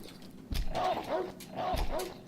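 Dog barking in the shooter video game You Are Empty, two sharp close barks with yelping tails about a second apart over quiet game ambience.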